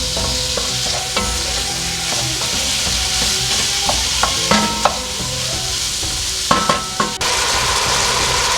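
Beef pieces caramelizing in a pot for harira soup, giving a steady close sizzle and fry with occasional stirring scrapes and clinks of a utensil against the pot, no talk.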